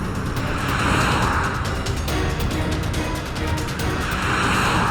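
Steady, loud vehicle rumble with road noise and faint rattles as a car is towed away, continuous without any speech.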